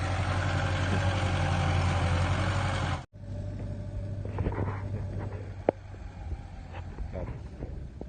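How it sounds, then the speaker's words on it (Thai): A tractor engine idles with a steady low rumble that cuts out briefly and resumes, with scattered knocks and clatter around it. "อาจจะเสียงดังจักหน่อยเนาะพี่น้องเนาะเสียงรถไถเนาะ"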